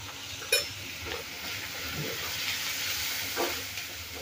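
Half a spoon of asafoetida sizzling in hot oil for puri bhaji, a steady frying hiss with a brief sharp crackle at the start and soft stirring later.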